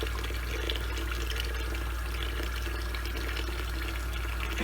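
Salted zucchini is rinsed under a running kitchen tap, a continuous, steady splashing rush of water close by with no pauses.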